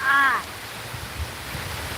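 Heavy rain falling outdoors, a steady hiss of pouring rain close by after a short whistle-like tone at the start.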